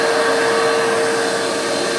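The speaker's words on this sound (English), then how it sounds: "you might be able to just vacuum that out from right here" A shop vacuum runs with a loud, steady roaring whine while sucking packed sand out of a sandblasted navy boat hull, continuous and close, with no voices.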